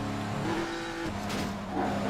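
In the Midnight Club 3 street racing game, a Lotus Esprit engine roars past with shifting pitch and a short tire squeal, a brief burst of racing car sound with no talk.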